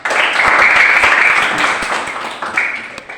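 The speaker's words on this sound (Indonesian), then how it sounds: "Kita berikan aplaus kepada kelompok 2" A class of fifth-grade pupils claps for a student group after its presentation, a dense burst of applause that swells quickly and then thins out over about three seconds.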